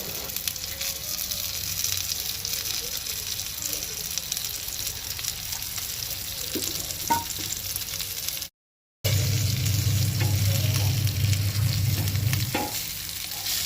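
A piece of shetka fish fries in hot oil in a pan, Goan style, giving a steady, close, crackling sizzle that carries on evenly. A brief dropout of silence comes partway through, and the sizzle then returns with a deeper bubbling layer.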